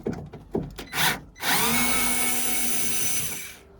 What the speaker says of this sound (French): Je me suis muni d'un nouveau petit tournevis électrique.